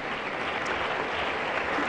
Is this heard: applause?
yes